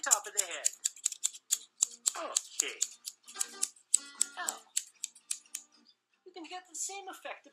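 Scissors snip out printed paper-craft template pieces for a Fortnite Loot Llama model, giving a quick series of sharp, close cuts mixed with brief crisp clicks, with a short pause before a final burst.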